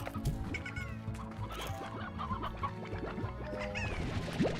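Cartoonish hens cluck repeatedly in the Slime Rancher video game, overlapping short bursts and rising squawks over a busy low game-world background, with a louder squawk near the end.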